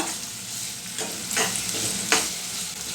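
Curry leaves and spices frying in a pan for curry leaf rice, a close steady sizzle with two or three soft scraping swishes of stirring, no voices.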